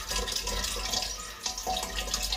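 A steady, rushing stream of water pours from a tap, filling drinking water, running continuously with a slight change partway through, no voices.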